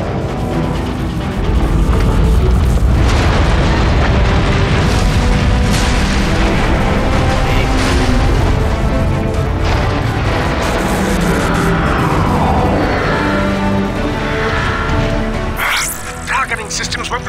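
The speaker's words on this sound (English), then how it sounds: "The neutron gun is activated." Loud, continuous booming and bursts from a neutron gun firing and explosions in the video game Transformers: Fall of Cybertron, sustained throughout amid dense game noise.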